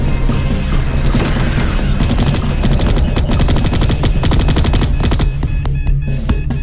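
Rapid automatic gunfire from the video game Space Beast Terror Fright rattles in dense bursts with short pauses, loud and close, with no talk over it.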